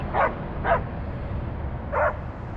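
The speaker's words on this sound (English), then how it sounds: "There's literally continuous people walking their dogs here." Dogs bark in a busy park where people walk and play with their pets: three short, sharp barks at moderate distance over a quiet outdoor background.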